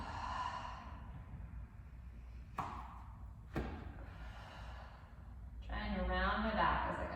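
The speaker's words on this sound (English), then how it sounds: "I'm inhaling back and exhaling up." Deep breaths during an intermediate Pilates mat exercise, long audible exhales and inhales close to the microphone, punctuated by two soft thumps of movement on the mat, with a voice speaking over the final breath.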